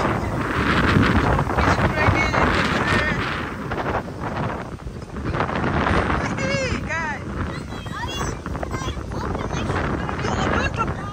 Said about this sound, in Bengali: কি পরিমাণ ঝড় হইতেছে বাইরে।